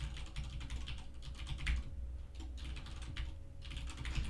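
Steady, rapid typing on a computer keyboard while Python code is written, a dense run of close key clicks with brief pauses and no talking.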